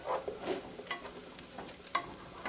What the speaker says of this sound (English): I'm just going to stir that around just to get some of that lovely bacony onion garlic flavor on there